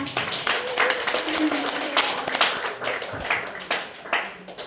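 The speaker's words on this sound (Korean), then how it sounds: "우리 교수님 나오면 뜨거운 박수로 박수를 쳐주세요" Audience members clap for a professor at a small, crowded venue, producing a rhythmic, close patter of hand claps with voices mixed in underneath.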